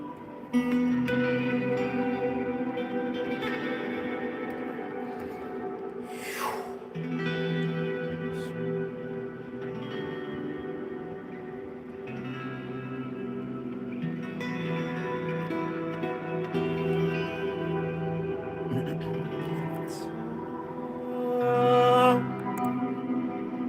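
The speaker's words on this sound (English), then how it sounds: "Yeah, it's got a nice tail on the echo." A looped instrument phrase repeats steadily for over twenty seconds during a busking setup test, its notes smeared by a long echo tail and reverb, with no voices.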